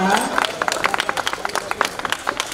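A crowd at an archery and fun-walk festival claps for a girl in a short burst of applause, with a voice over the start giving way to separate claps that stay fairly close.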